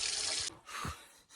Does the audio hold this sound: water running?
yes